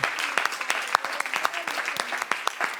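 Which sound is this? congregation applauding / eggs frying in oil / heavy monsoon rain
congregation applauding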